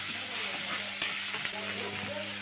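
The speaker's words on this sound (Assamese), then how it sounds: "মই তেলত বিলাহী আদা নহৰু পিয়াজ জলকীয়া গুটেখিনি একেলগতে মিক্স কৰি মই ভাজি লৈছোঁ" Tomato, ginger, garlic, onion and chilli fry together in hot oil with a steady, close sizzle, a few stirring scrapes and taps cutting through, and no voices.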